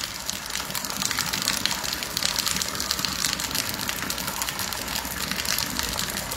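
Floodwater rises and flows in front of a house, making a continuous rushing, gushing wash that stays steady and close throughout.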